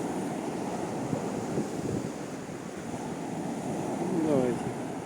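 Storm waves washing along the Sudak embankment, a continuous surf roar mixed with wind noise on the microphone, with distant voices faintly audible beneath.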